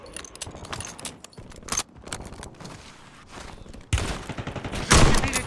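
Gunfire in the Call of Duty video game crackles in scattered bursts, with a denser, louder volley near the end, mixed with other game sounds.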